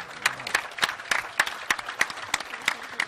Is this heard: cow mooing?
no